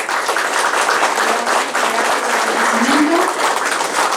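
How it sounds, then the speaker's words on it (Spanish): A crowd applauding a doctor after a talk on energy-sustainable urban housing, dense clapping filling the whole stretch at an even, fairly loud level. "Un aplauso para el doctor."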